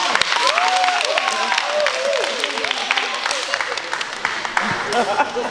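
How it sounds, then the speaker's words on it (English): Audience applause at a face-washing skincare demonstration event, a steady patter of clapping with voices talking over it and some brief cheering. "Give them a round of applause."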